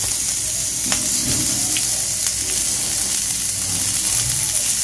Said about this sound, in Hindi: तो यहाँ पे मेरे पास शिमला मिर्च है और ये मैं ग्रिल कर लूंगी थोड़ी सी।